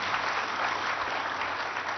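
An audience at a conference applauds, a dense, even patter of many hands clapping continuously for a couple of seconds at moderate loudness, with no voice over it.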